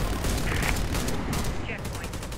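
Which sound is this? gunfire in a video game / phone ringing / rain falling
gunfire in a video game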